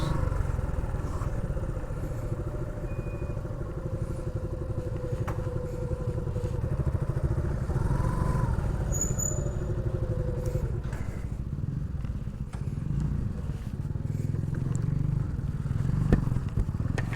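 Motorcycles from a long-distance bike tour idle and rumble steadily at the grounds of a government guesthouse, a low continuous engine drone with faint clatter and no clear voices.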